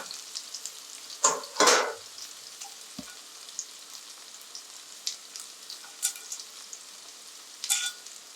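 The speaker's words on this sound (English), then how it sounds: "Here the onions are sauteed and soft. I will add the garlic." Soft sautéed onions with garlic frying in a pan for Afghani eggplant burani, a quiet, steady sizzle broken by a few louder bursts of crackle and spatter and a single low knock.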